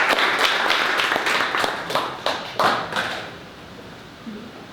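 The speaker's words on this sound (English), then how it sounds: "give a round of applause for Nick Sonnentag" An audience at a startup pitch day event claps in a burst of applause that is loud at first, then thins out and fades away over a few seconds.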